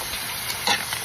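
A short, soft scraping stir in a pan over a faint sizzle, with one brief louder scrape near the end.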